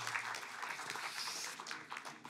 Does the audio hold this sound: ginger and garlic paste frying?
no